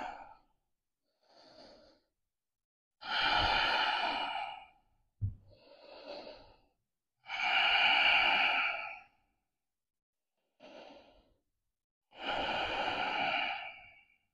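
Deep, slow yoga breathing held through an Ashtanga pose: long, loud exhales alternate with softer inhales in a steady rhythm, close to the listener, with no voices.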